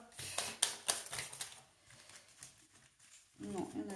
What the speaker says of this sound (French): quand je bats les cartes devant vous